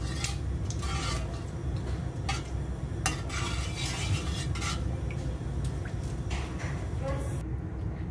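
Hair oil with curry leaves heats in a pan while a spoon stirs it, giving soft intermittent scraping and clinking over a low continuous sizzle.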